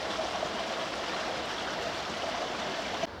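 Water flows along the River Lark near Fornham St Martin, Suffolk, a steady close broadband rush that holds at an even level throughout with no voices.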